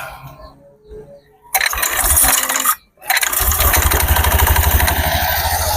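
A Honda Beat FI fuel-injected scooter is started after a CVT service: a short cranking burst, a brief stop, then a loud, steady close-up idle with a dense, even running rattle.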